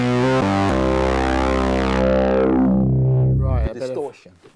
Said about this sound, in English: Right, distortion.